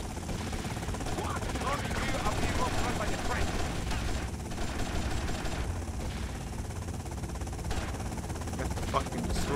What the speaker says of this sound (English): Oh, shoot the helicopter!